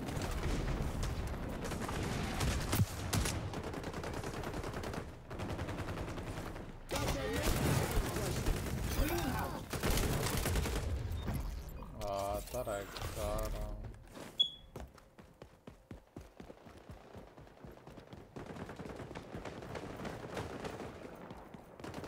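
Video game gunfire crackles in volleys and single shots, loud bursts giving way to spaced, sharper reports later, with talking mixed in over the shooting.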